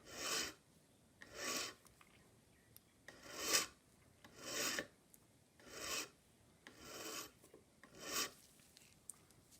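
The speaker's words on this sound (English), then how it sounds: "bevel in the end of the pin while we spin the pin vise around" A file rasps a 45-degree bevel onto the end of a clock pin held in a spinning pin vise, during service of a vintage English Enfield mantle clock; eight short, close rasping strokes come in an even rhythm.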